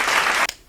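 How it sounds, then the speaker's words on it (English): A short, loud burst of applause from many hands that stops abruptly after about half a second. "Applause for stepping up the production quality of my videos."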